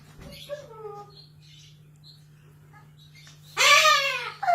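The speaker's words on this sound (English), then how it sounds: "I can't tell if the parrot is talking human and saying, ah, or if he just legitimately sounds like that" A parrot gives a few short, thin chirps and squeaks and then a loud harsh squawk, heard close against a steady low hum.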